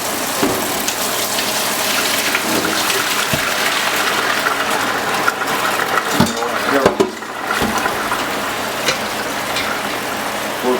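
Cold tap water runs steadily over pork bones being rinsed for Korean gamjatang pork bone soup, a continuous close gush with brief clatter and handling sounds in the middle.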